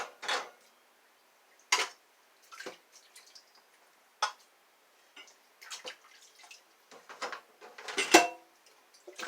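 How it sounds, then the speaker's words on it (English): Dishes rinsed by hand in an old-fashioned dish pan, giving scattered splashes, drips and light clinks that come in short irregular bursts and grow busier toward the end, with nobody talking. "I like to just rinse them in the old-fashioned dish pan."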